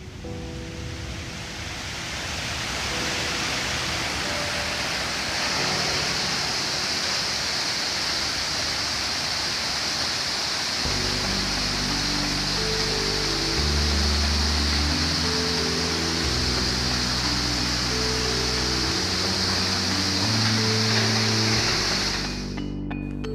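A forest waterfall at Sattal roars as a continuous broadband rush of falling water, loud and steady throughout, with a low tonal drone or music entering partway and no talking.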